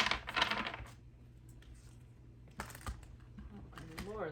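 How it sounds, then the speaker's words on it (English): Tarot cards shuffled by hand in a few quick riffling bursts separated by pauses, close and moderately loud, with soft room noise in between. "Shuffle a couple times here."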